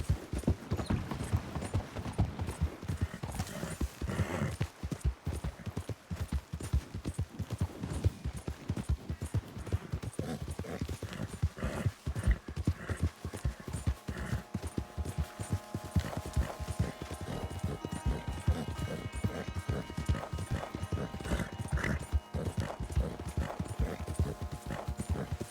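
Horse hooves clip-clop at a steady, repeating rhythm in Red Dead Redemption 2 while the horse is ridden toward the coast. Faint game music and ambience sit underneath.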